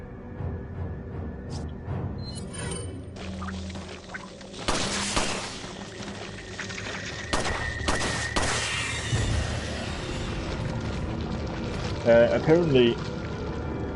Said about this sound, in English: I also have a striker as well. Powerful shotgun.